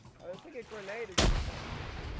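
A grenade goes off in a video game as a single abrupt, booming blast that cuts through softer voice-like game chatter, then fades into a low rumble.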